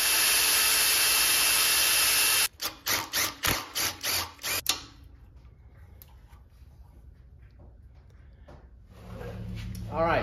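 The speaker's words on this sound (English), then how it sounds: "The original bolt is broken off into the tab. So we're gonna have to drill that out" Drilling out a broken-off bolt from a mounting tab on a 1941 Willys MB jeep: a steady high power-tool whine, then a run of rapid stuttering bursts as the bit bites, followed by quieter scraping and handling sounds.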